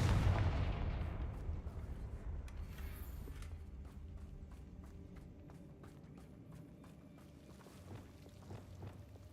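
A Confringo fire spell blasting in Hogwarts Legacy, opening with a heavy booming burst that decays into a fading rumble, then a series of faint sharp game impacts and clicks, with no talking.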